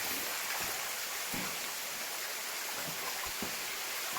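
Water rushes and flows steadily inside a large slate mine, a constant broadband hiss filling the space with a few faint knocks and no talk.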